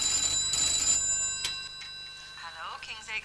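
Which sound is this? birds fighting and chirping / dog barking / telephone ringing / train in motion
telephone ringing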